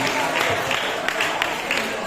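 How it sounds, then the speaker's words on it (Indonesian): Steady applause from a student audience fills a school event hall, a sustained clatter of many hands at moderate level with a voice talking over it. "Beri tepuk tangan untuk audiens yang pertama"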